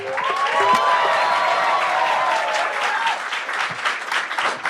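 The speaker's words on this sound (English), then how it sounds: "with a huge round of applause, please welcome on stage your only act for the evening" Audience applause welcoming comedian Kunal Kamra onto a stand-up stage, a loud, dense wall of clapping with a few cheers, sustained and gradually thinning near the end.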